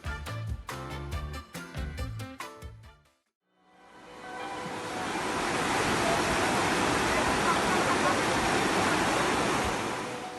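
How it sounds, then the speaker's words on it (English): Floodwaters rush through city streets as a loud, steady roar of churning water that fills the scene without a break, after a short stretch of unrelated music that gives way to silence. "The whole city becomes a river as floodwaters sweep through streets, submerging everything."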